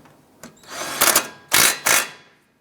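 A power tool tightens a nut on a 2001–2007 Ford Escape strut in short bursts, a brief buzz followed by three louder whirring pulses, close and with no talk.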